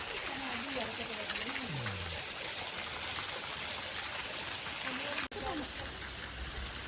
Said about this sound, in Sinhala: ඒ කන්දෙන් තමයි මේ වතුර ගලාගෙන එන්නේ